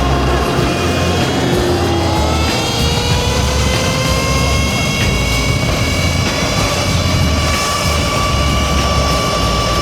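A Sur-Ron Ultra Bee electric dirt bike with an EBMX v3 controller climbs a grade in sport mode. Its steady high electric-motor whine rises in pitch over continuous wind and road roar, with no talking.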